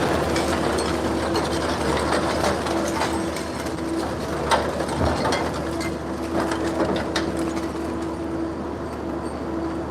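A crawler-mounted mobile shredder crushes scrap metal in a steady, loud mechanical roar, with a constant hum and repeated grinding, clanking impacts throughout.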